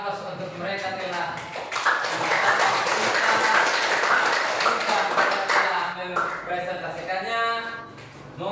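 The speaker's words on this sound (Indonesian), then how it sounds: "Kita berikan aplaus untuk mereka telah" Audience applause and clapping for a group after their classroom presentation, a steady wash of many hands lasting several seconds while a presenter speaks over it.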